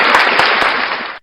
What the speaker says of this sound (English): let's go ahead and clap this up